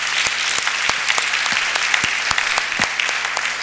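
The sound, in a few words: congregation applauding the pastor's visit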